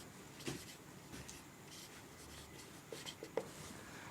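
Pen or pencil writing on paper during a Class 10 NCERT maths lesson, a faint continuous scratching with a few short sharper strokes near the end, close and quiet, with no talk.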